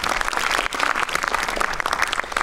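Conference audience at a film festival talk applauding: dense, steady clapping from many hands filling the room, with no break or talk over it.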